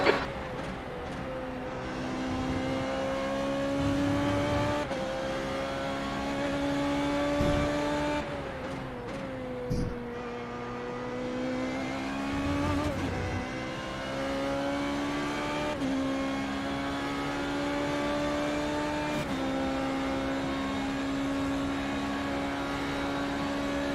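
Formula 3.5 race car engine at Road America in iRacing, held at high revs with a steady loud drone and brief dips at gear changes, running continuously without talk.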